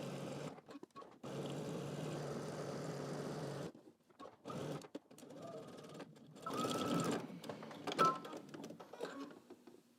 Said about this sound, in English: We're going to backstitch at the beginning and also at the end, going up across the top and then down to the other side using 5/8 of an inch seam allowance.